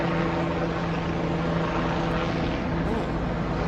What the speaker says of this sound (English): More and more helicopters.